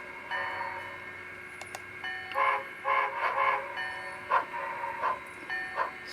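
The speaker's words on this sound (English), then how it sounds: "So we'll back our train up." A Great Northern model train backs slowly along the track, a quiet steady hum with light clicks and rattles that grow in short bursts midway, with a faint high tone running throughout.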